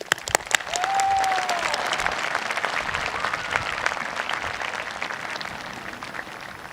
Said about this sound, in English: let's give a round of applause to our parents.